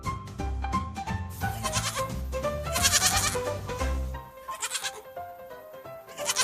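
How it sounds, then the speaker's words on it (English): A goat bleats in repeated wavering cries over a bright backdrop of music, the calls close and prominent. "It's a goat."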